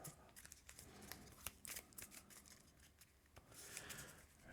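A deck of Marvel Champions playing cards being shuffled, a quiet series of soft riffling flicks and rustles at close range with no talk.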